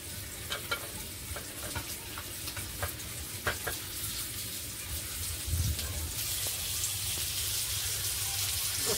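Pomfret fish frying slowly in a pan, being turned from side to side, with a steady close sizzle and crackle, occasional sharp spatters and a few clinks of a utensil against the pan.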